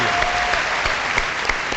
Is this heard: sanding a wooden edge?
no